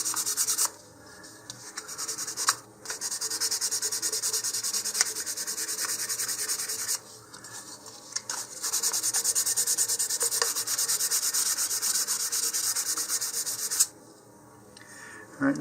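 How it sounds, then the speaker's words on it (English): Hand sanding on a plastic model rocket nose cone from an Estes Curvilinear kit, a steady close abrasive rasping that runs on in long continuous strokes with a few brief pauses, no voices. "looks like I could still use some more sanding here"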